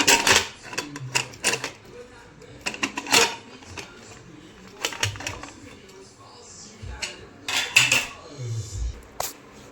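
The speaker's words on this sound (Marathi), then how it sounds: "मला आता कुकर खोलून घेते बघा कुकर खोलला आहे मी" A pressure cooker is opened in a home kitchen and its stacked steel containers, holding rice and chana dal, are handled, giving a series of close metallic clanks, clinks and scrapes in irregular bursts.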